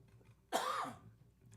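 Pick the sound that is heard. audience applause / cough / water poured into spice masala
cough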